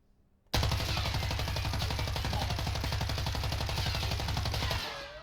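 A Holger light machine gun in Warzone fires one sustained burst of about 50 rapid, evenly spaced shots, loud and close, that stops abruptly, with no talking over it.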